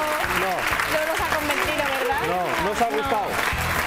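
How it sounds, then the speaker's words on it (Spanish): A studio audience applauds after a magic trick on a television magazine show, the clapping moderately loud and steady while voices talk over it. "Gracias por sus aplausos"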